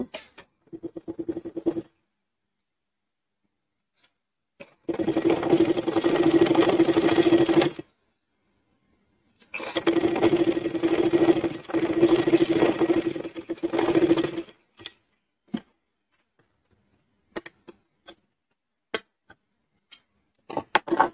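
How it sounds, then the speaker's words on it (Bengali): A sewing machine runs in two long bursts, stitching straight down the side seam of a fabric shopping bag, with a steady mechanical whir, short pauses between runs and scattered light clicks of handling afterward. "সেম ভাবে আমরা অপর সাইডটি এরকম ভাবে সেলাই দিয়ে নেব"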